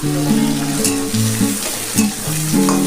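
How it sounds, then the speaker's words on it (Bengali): Chopped onions with salt, cinnamon, bay leaves and cumin fry in hot oil in a pan, giving a loud continuous sizzle with spatula scrapes, for a mutton curry. "আর পেঁয়াজটা ভাজা হয়ে গেছে"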